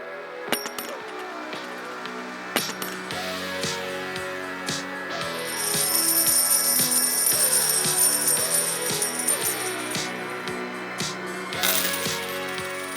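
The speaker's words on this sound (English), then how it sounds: "let's get to a quick unboxing of some silver coins" Silver coins clink and jingle against each other while a package is unboxed: scattered metallic taps and a steadier ringing shimmer midway, close and clear with no talking.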